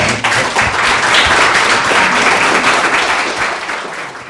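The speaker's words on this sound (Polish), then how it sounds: "Bartumi Mleczko, ogromne brawa." Loud, sustained applause from a large crowd at a karting season awards event, dense clapping filling the whole stretch without a break.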